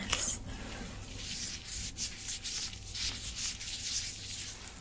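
Fingers rub together close to the ear during an ASMR doctor-roleplay cranial nerve exam, making a faint, soft, repeated scratchy rubbing in short strokes.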